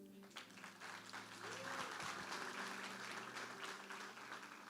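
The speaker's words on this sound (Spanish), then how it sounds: "Le damos un aplauso." A congregation at a church service applauds, with steady crowd clapping that swells and then holds at a moderate level for several seconds, heard from a distance.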